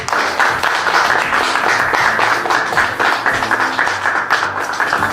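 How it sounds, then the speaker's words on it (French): A crowd applauds a hero at a medal of honor ceremony led by a president, the dense clapping steady and loud throughout with no break. "gardez vos applaudissements pour notre héros"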